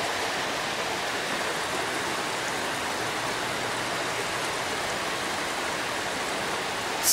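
Steady broadband rush of Raccoon Creek flowing continuously, even and fairly close, with no voices or other sounds over the water.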